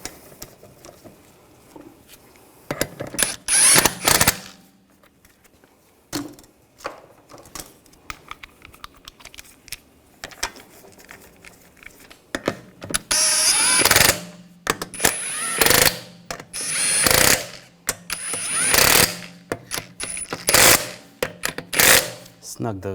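A power impact tool runs in short bursts as the lug bolts are snugged onto the wheel of a 2007-2013 BMW X5, loud and close, with quiet pauses between and sparse talk.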